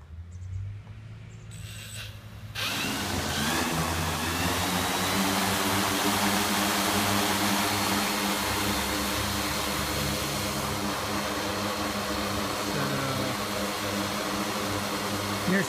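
Align M690L multirotor motors spin up during a battery test on a 25-volt pack: a steady, loud mechanical whine with a broad hum that begins abruptly after a brief quiet and holds evenly.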